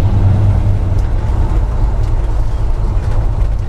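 A 1970 Chevrolet C10 pickup truck drives along, its engine a loud, steady low rumble with a prominent deep drone throughout, heard close from inside or beside the vehicle.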